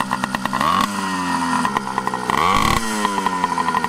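A two-stroke motorised bicycle engine with a welded, fatter exhaust tip, loud and close, buzzing raspily as it revs up twice in rising whines and falls back to a choppy putter between them.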